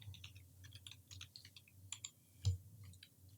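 Typing code on a computer keyboard during a Python programming lesson: a quick, irregular run of light key clicks, close and fairly quiet, with one slightly heavier keystroke partway through and no talking.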